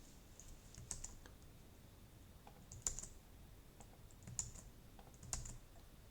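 Faint, sparse keystrokes on a computer keyboard: a few isolated clicks spaced a second or more apart, typed as shortcuts in building design software, with quiet room tone between them.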